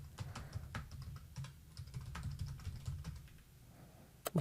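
Typing on a computer keyboard: a quiet, steady stream of light key clicks in uneven clusters, close by, with a couple of sharper keystrokes at the very end and no talking.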